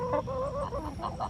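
Backyard chickens clucking in a short burst of several quick, nasal calls close by, with no talking.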